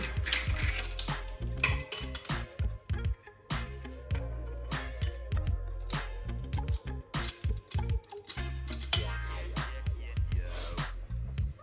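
Chocolate chip cookie dough with a teaspoon of vanilla extract being mixed in a bowl, a series of irregular clanking and scraping knocks of utensil against the bowl, close and fairly loud, with no talking.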